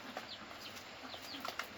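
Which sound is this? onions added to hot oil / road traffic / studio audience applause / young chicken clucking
young chicken clucking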